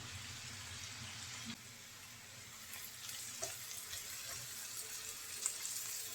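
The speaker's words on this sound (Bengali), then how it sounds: "এখন ভালো করে নেড়ে চেড়ে করলাটা ভেজে নেব" Bitter gourd stirred and frying in a pan over medium heat, a soft steady sizzle with occasional faint scrapes and clinks of the spatula, close and continuous, no talk.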